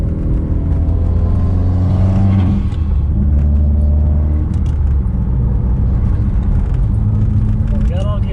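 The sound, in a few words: Subaru WRX engine revving while driving, shifting gears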